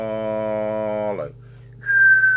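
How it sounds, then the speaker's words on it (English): A steady whistle into a CB radio microphone while setting transmit deviation on a Moonraker Minor II mobile set, held tone that drops off, then a higher steady test tone on its own. "So let's see with the whistle."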